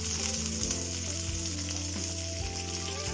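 Curry leaves dropped into hot oil with mustard seeds and fenugreek for a Palakkad-style mulaka pachadi tempering, sizzling and frying steadily and closely throughout with faint stirring and no talking.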